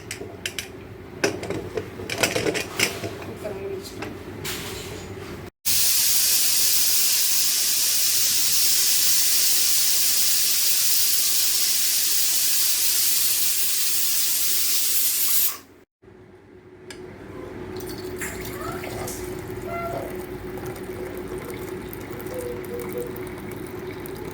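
Mutton intestine (kudal kuzhambu) gravy boils loudly on a stove with a strong, steady hiss and bubbling for about ten seconds, then cuts off and leaves quieter kitchen noise.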